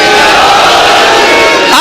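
A large crowd at a Shia majlis gathering in Multan raises a loud, sustained religious slogan in unison, a dense roar of massed voices filling the space with little break.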